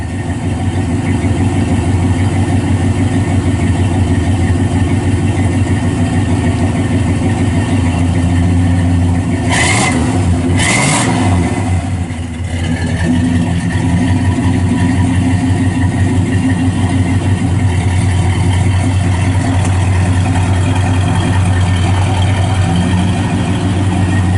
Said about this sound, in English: these Monte Carlos really cruise nice down the road